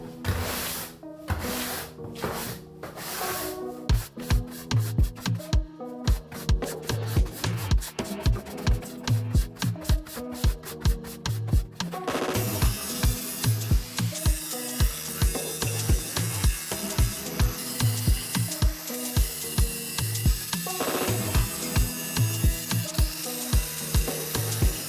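Leftover screws being sawn off in a bus floor, a steady run of rapid rasping, ratchet-like strokes, close and loud, continuing without pause.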